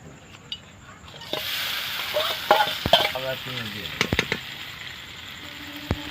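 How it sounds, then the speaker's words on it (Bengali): Chicken frying in oil in a wok (karahi), a steady sizzling hiss that swells as the pieces hit the pan, with crackles, sharp spitting pops and stirring scrapes close by. "কড়াতে আমি একটু তেল দিয়ে দিচ্ছি। আমি তার চিকেনটা আমি একটু কষে নেব।"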